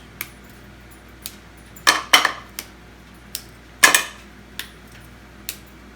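Huge chocolate squares clicking and knocking against each other in sparse, crisp taps, with a few louder clattering bursts among quieter isolated clicks, close by and with no talk.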